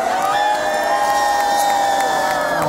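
A concert crowd at a live show in Bedford cheers and whoops loudly and steadily, a dense wall of voices with shrill high shouts rising above it.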